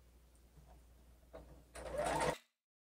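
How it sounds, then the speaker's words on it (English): Sewing machine stitching fabric, a couple of short faint whirs followed by a louder half-second burst of rapid stitching that stops abruptly into silence. "My needle's down, lift my presser foot, turn my fabric, and keep sewing."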